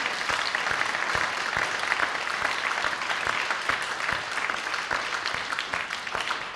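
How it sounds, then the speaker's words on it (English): A church congregation claps warmly for children during an Easter Day service, steady dense applause filling the room for several seconds and tapering slightly at the end. "So let's give them all a round of applause"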